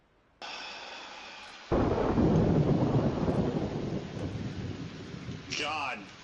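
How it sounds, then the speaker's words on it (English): Loud thunder crashes in after a soft hiss of rain, a long rolling rumble that stays heavy for several seconds before easing, with a brief higher sound near the end. "Lightning and the thunder."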